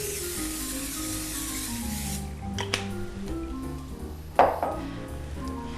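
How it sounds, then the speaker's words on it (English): Cooking spray hisses onto the bottom of a 9x13 pan in a kitchen, a soft spray lasting about two seconds followed by a couple of light clinks and a sharper knock. "we're going to spray the bottom of it with cooking spray"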